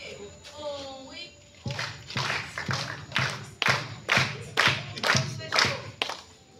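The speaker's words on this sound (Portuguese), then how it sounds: "Palmas comigo." A group claps hands together in a steady rhythm at a drum orchestra class, about ten sharp, loud claps in even succession, with a voice speaking briefly at the start.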